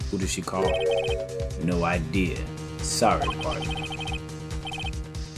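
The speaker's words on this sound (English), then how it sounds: "I heard a phone ring just now. One of those newfangled ringtones." A newfangled cell phone ringtone in the video game Phoenix Wright: Ace Attorney chirps in short repeating electronic bursts, playing in groups under ongoing spoken dialogue.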